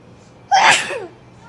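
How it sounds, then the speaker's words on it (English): A single loud, explosive human sneeze bursts out close by, rising sharply and then trailing off into a short breathy tail over quiet room background. "that was like the biggest sneeze on the planet"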